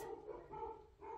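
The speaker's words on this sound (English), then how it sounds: "You can probably hear my dogs back there downstairs barking." Dogs bark in a room downstairs, a few muffled, distant woofs repeating in a loose rhythm, faint and heard through the house.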